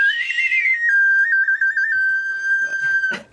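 A person whistles a single clear call, a bright rising note that settles into a long sustained tone with a few quick warbles, close and alone, before brief faint noises at the end.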